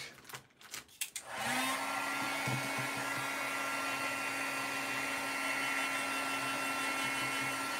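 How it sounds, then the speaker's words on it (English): Hair dryer switched on close by to dry a dream catcher craft, a loud, steady blowing whoosh with a constant motor whine that follows a few handling knocks and runs unbroken. "Let me dry this real quick."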